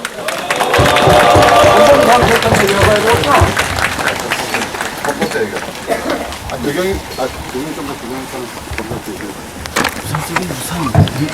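A crowd at an outdoor protest rally in the rain claps to welcome a speaker, swelling early and then thinning into scattered clapping while an announcer's amplified voice talks over it.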